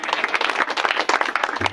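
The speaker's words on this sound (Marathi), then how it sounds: "त्यांच्या बदलीला टाळी वाजवा." Audience clapping at a Marathi kirtan devotional performance during a Mahashivratri festival, a dense, steady burst of many hands applauding together, loud and close, with no talk over it.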